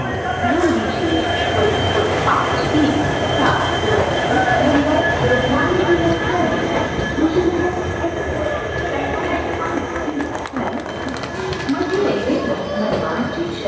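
The Hazur Sahib Nanded Hadapsar Express at Manmad Junction: a continuous dense rumble of rail carriages with rhythmic wheel clatter and occasional squeal, steady and loud throughout, with a voice speaking over it.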